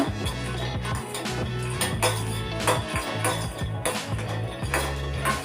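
Peanuts frying lightly in a home kitchen pan for a simple eggplant curry, heard as steady close clattering and scraping of a utensil against the pan, with no talking.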